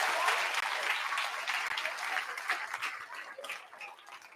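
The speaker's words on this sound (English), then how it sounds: "Give yourselves a clap" Children and adults at a book awards ceremony clap for themselves, a moderately loud, busy burst of applause that tapers and grows patchier toward the end.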